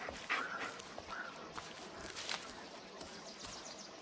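A dog in the Blair Witch video game gives a few short barks and whines against a hissy forest ambience, with soft footsteps moving through the woods.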